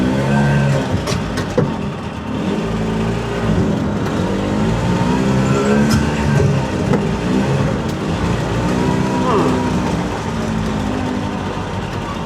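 An old Italian micro van, a barn find revived after twenty years parked, drives in gear with a steady, buzzy small-engine drone that holds loud and close throughout, with no voices.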